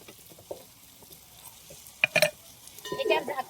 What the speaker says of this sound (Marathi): सगळ्या साईडनं तेल मसाला सगळं लागलं पाहिजे या हिशोबानं परतून घेऊ